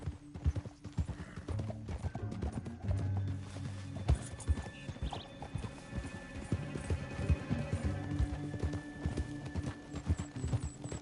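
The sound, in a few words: horse hooves clip-clopping, from a video game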